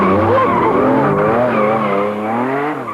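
Car oversteering on a track, tires skidding and squealing loudly in a sustained, wavering screech over engine noise, close and continuous with no talk.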